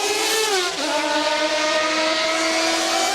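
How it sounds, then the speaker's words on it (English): Williams Renault Formula One race car leaving the pits at the 1992 Belgian Grand Prix, a loud, close, high engine whine rising and settling into a steady sustained scream. "Riccardo Patrese out on the track running ahead of Nigel Mansell"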